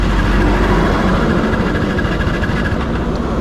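A TVS Ntorq 125 scooter that has run out of petrol is cranked with its electric starter and fails to start, giving a steady, loud mechanical whirring and rumbling for several seconds, with no talk.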